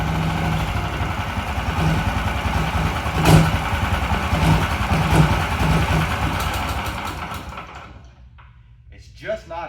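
A snow machine's small engine sputters and runs roughly, struggling to keep idling with a blocked carburetor, then dies away near the end with a brief clunk afterward.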